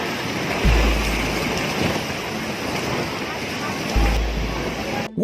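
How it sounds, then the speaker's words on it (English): Massive house-tall waves crash against the Hawaiian shore in winter, a steady roaring wash of surf with wind rumble and two heavier low booms from breaking swells. "Massive waves as tall as houses crashed against the shores of Keohokona, Hawaii."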